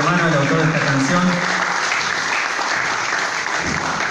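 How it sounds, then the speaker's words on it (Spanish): Audience applause at a concert of Paraguayan music, a steady dense wash of clapping that starts under a sung or spoken voice and carries on alone, loud and close, throughout. "los aplausos son para mi hermano, el autor de esta canción"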